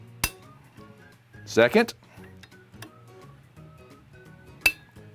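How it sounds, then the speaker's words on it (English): Set screws are loosened on an FX Bobcat air rifle shroud held in a vise, with a few sharp metallic clicks and a brief clatter of tool on metal while someone talks. "we're going to loosen up the first set screw"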